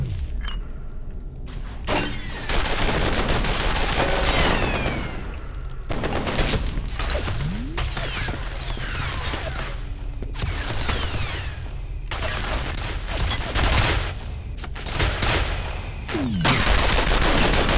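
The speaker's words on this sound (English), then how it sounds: "Automatic defensive measures are active in this area. Unauthorized personnel will be shot on sight." Automatic defensive turrets fire in the shooter game F.E.A.R., a loud, near-continuous barrage of rapid shots across the whole stretch, mixed with impacts, breaking debris and shattering, with short lulls between bursts.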